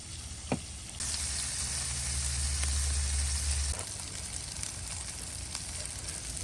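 Stir fry sizzling in olive oil in a pan over a campfire, a steady hiss of frying that swells louder for a few seconds midway, then settles back to a softer crackle, with no voices.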